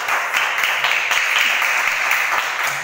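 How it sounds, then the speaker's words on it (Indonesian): Classmates in a school classroom applaud a student, a steady, loud patter of many hands clapping continuously with no talking over it. "Tepuk tangan untuk Mas Faris. Beri kita tepuk tangan"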